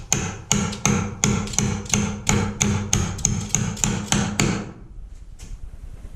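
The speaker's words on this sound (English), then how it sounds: "and then you can hammer." A nail driven with a hammer through a socket wrench extender during electrical box rough-in on a school bus conversion: about fourteen sharp metallic strikes in a quick, even rhythm, close and loud, then stopping and leaving near quiet.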